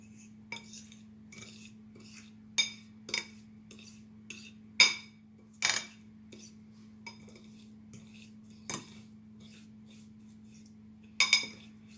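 Cinnamon sugar mixed in a bowl for a tarte tatin, heard as intermittent clinks and taps of a utensil against the bowl, a dozen or so sharp contacts at irregular intervals over a low steady hum.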